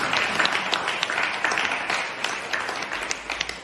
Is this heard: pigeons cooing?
no